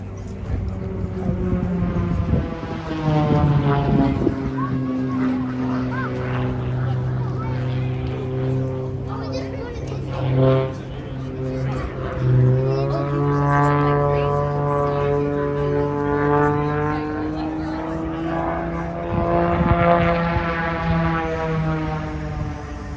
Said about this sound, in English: a military helicopter.